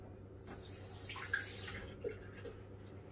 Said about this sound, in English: I'm just gonna rinse that off a little bit.